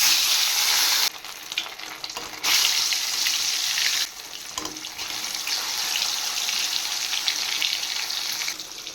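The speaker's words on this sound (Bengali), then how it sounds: "এবার মাছগুলো ভেজে নেব" Rohu fish frying in oil left over from frying eggplant, giving a steady close crackling hiss that cuts out briefly a few times before settling into an even sizzle.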